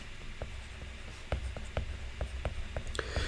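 Pen writing on a surface while working through a programming exercise, a series of short scratchy strokes and taps at an uneven pace, close and quiet over low background hiss.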